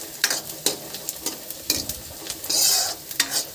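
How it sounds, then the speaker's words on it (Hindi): Tadka tempering for kadhi sizzles in a pan, with bursts of crackling spatter and a stronger hiss near the end, close and fairly loud, alone without talk. "सारे तड़का लगाती हूँ।"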